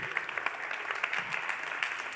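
A conference audience applauds a startup pitch with steady, dense clapping that holds at an even moderate level throughout.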